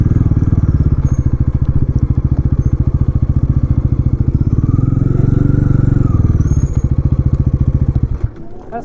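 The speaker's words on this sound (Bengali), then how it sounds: "সো আমার বন্ধু আমার বাইকটা নিয়ে আসলো।" A Bajaj NS400 or Yamaha R15 V4 motorcycle engine idles steadily up close with a rapid, even thumping pulse, loud and continuous for about eight seconds before cutting off near the end.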